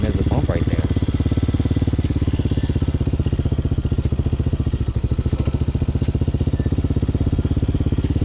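A Hyosung GT250 motorcycle engine runs steadily at low revs through slow U-turns, giving a loud, even, rapid low-pitched throb with slight clatter and no pauses.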